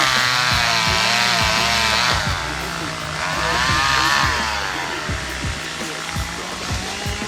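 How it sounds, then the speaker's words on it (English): Chainsaws cutting down pear trees in a drought-stricken Southern Oregon orchard, a loud continuous buzzing engine whine that rises and falls as it bites into wood, with a voice speaking over it. "We have them out with chainsaws just cutting the trees down."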